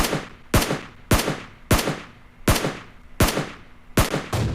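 Scar rifle gunfire in PUBG Mobile: seven loud, sharp single shots at roughly even intervals of just over half a second, each ringing out briefly before the next, with no talk.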